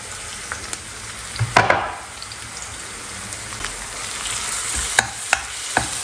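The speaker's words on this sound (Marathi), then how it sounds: "लसूण आल्याची पेस्ट टाकलेली आहे मी आणि दोन तीन मिनटं छान परतून घेणार" Garlic-ginger paste sautéing with onions in a hot pan, a steady hiss with one loud splattering burst early on and a few sharp spoon taps later, no speech.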